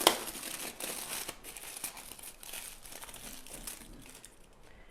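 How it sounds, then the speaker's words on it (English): Aluminum foil being rolled up tightly around a cylinder mold for cinnamon roll chimneys, a close, continuous crinkling and crumpling that rustles on for several seconds with no one speaking. "I'm going to roll them up in some aluminum foil that I have cut here."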